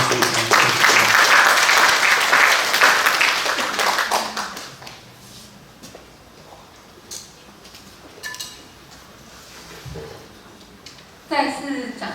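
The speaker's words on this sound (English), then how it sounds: "Please give applause again." An audience at an international sports physiology and fitness conference gives loud, dense applause after a keynote lecture, fading out after about four seconds into room noise and quiet talk.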